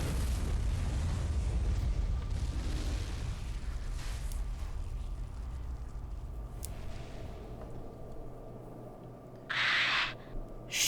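A machine blows up in the video game Fuga: Melodies of Steel 3: a big low rumbling blast that slowly decays into a long fading tail, followed near the end by a short bright burst.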